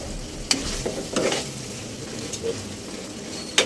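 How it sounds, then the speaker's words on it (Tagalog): Beef caldereta in tomato sauce being stirred in a pan, with a low steady sizzle broken by a few sharp utensil scrapes and clinks against the pan. "Medyo halu-haluin po natin. Para magpantay-pantay po yung kanyang tomato sauce."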